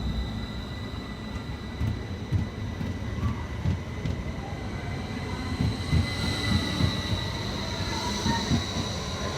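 Class 333 electric train, unit 333 008, departing Bradford Forster Square for Leeds, with a continuous rolling rumble, faint wheel squeal and rising motor whine, steady and moderately near, no talking.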